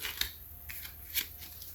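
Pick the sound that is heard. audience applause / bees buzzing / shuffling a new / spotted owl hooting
shuffling a new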